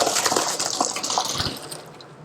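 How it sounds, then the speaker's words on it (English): Boiled potatoes and their water poured into a colander, a brief rushing gush of liquid that splashes loudly and then tapers off. "We're draining the potatoes into a colander."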